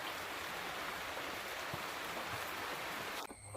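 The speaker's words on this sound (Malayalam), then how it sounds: "രാത്രി ആയപ്പോഴത്തേക്കും ചെറിയൊരു മഴ വന്നിട്ടുണ്ട്" Light night rain makes a soft, even hiss of drizzle, faint and continuous, briefly broken by a small knock near the end.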